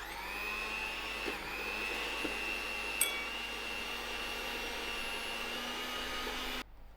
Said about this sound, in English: to cream in my butter and sugar. I am going to use my electric mixer.